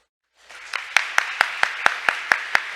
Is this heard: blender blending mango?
no